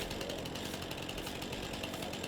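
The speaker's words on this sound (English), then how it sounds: "Doing this in real life, though, that would definitely ruin the chain on the chainsaw" A chainsaw in the video game Farming Simulator 22 grinds into a tree stump, a dense, unbroken buzzing roar that stays loud and steady throughout.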